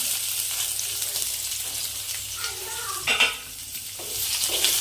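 Medium onions frying in a pan for a chutney, a steady close hiss of sizzling oil with the scrape and clatter of stirring breaking through now and then, no talking.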